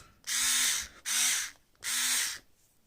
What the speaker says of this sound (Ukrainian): з одинаковою швидкістю ця викрутка і закручує, і розкручує